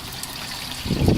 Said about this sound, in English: So then you squeeze. So with this one coconut, we'll just do 2 squeeze.